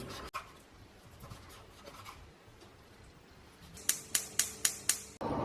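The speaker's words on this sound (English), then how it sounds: "Cut into thin, even slices to cook quickly." A knife cuts clean, hairless pork belly into thin slices on a board, faint scraping at first, then a quick run of five or six crisp, evenly spaced chops close by, with no voices.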